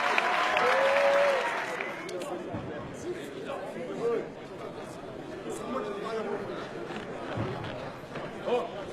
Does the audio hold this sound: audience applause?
yes